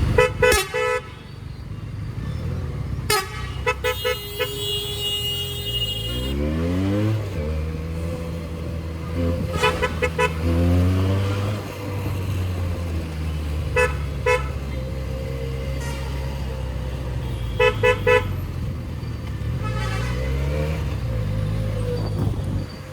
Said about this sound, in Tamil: டிராஃபிக்காக இருக்கு, நம்ம உள்ளே போயிடலாம்.